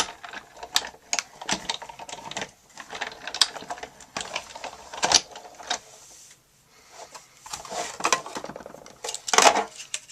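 A Big Shot die-cutting machine is cranked back and forth, giving bursts of clicking, ratcheting mechanical rattles in uneven runs with short pauses between passes, close and fairly loud.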